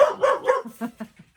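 A pet dog named Diamond barking indoors: a burst of several close, loud barks in quick succession, tapering into softer yips and a whimper.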